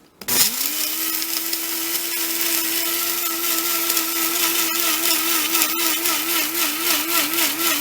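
An electric spice grinder whirs steadily as it grinds dried spinach leaves into a fine powder, a loud continuous motor hum with a slight wavering pitch that runs unbroken after starting up.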